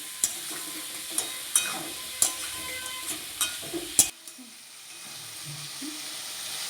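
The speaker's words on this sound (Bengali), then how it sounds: "এবার আমি ঝিঙা দিয়ে দেবো, কেটে রাখা কুচো করে রাখা ঝিঙা দিয়ে দিচ্ছি। ঝিঙাটা ভাজা ভাজা হোক" Chopped ridge gourd fries in a pan with a steady low sizzle while a utensil scrapes and stirs it in a series of sharp knocks, then the stirring stops and the quiet sizzling carries on alone.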